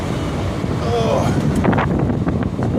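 Wind gusts buffet a microphone outdoors at night in a parking lot beside a truck, a loud, continuous rumbling roar with some faint rustling and knocks.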